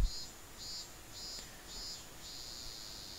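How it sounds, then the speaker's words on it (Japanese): Cicadas in a video game sing in faint high buzzing pulses, four short bursts followed by one sustained drone, heard quietly over a soft background hiss. "花なのにセミの声が聞こえるってやっぱりおかしいよな"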